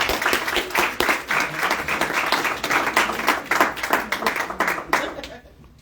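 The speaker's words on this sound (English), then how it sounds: "let's give Anissa a hand clap" An audience at a community event claps for Anissa, a dense burst of close applause that holds steady for several seconds before tapering off quickly, with voices faintly mixed in.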